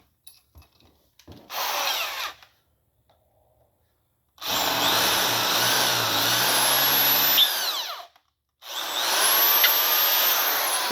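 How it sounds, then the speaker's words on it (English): A drill bores into the cast iron engine block of a 331 Hemi beside a previous repair pin, whining loudly in two long sustained runs after a short opening burst, with brief pauses between them. "we are drilling into the side of the previous pin"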